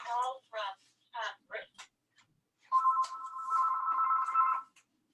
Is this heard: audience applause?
no